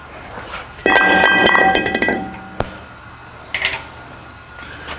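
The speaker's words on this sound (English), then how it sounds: "So we're gonna remove this nut, and then we're gonna remove our brake rotor." Removing a wheel-hub nut and brake rotor on a Dodge Journey brings a burst of sharp metallic clinks and clanks, followed by a single knock and a few lighter taps in a quiet garage.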